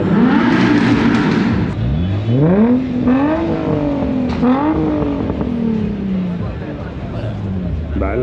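Powerful BMW M4 tuned to 711 horsepower at a car meet, roaring loud and close through several rising revs with crisp gear-like pitch climbs and drops, ending in a lower fading drone.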